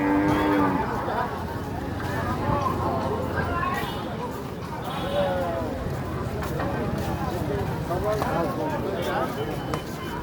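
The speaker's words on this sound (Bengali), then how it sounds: "মালা পরানো গরু।" Cattle low and moo amid the constant crowd noise of a busy livestock market for Eid, with people talking throughout and a few moos rising above the general din.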